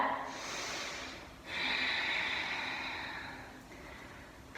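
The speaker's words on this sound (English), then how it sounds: "Nice full deep breath." Deep, audible nasal breaths during a yoga flow, a long airy inhale followed by a steady exhale, close and fairly quiet, with no talking.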